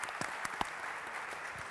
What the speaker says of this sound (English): can we have a round of applause, please, for your fantastic